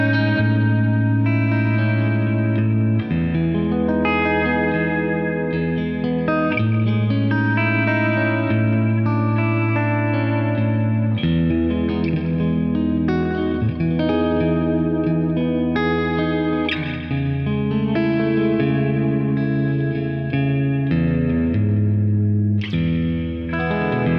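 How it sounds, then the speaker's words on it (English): Sustained chord tones from a Peavey Classic 20 Mini Head guitar amp with reverb at maximum, drenched in heavy reverb, long washing tails and echoing decay blending each change into the next, loud and continuous. "all the way up to crazy reverb levels."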